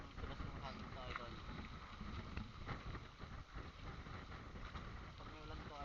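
Strong, steady wind roaring across open water, with a constant rush and buffeting noise close to the microphone throughout.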